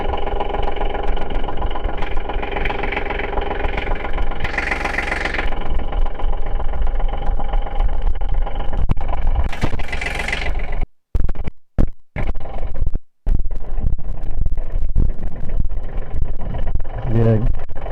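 A Kubota engine runs after an oil change, a loud, steady close idle with a constant low rumble that briefly cuts out a few times before carrying on evenly.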